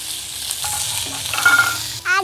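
Onion and garlic frying in a pan with cumin already in the oil, a loud, steady sizzle with brief stirring scrapes, close and continuous.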